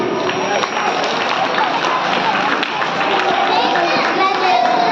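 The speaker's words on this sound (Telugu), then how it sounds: "అంబేద్కర్ కు ఒకసారి క్లాప్స్ కొట్టండి." Schoolchildren and guests applaud at a school Republic Day celebration, sustained loud clapping filling the whole stretch with voices mixed in.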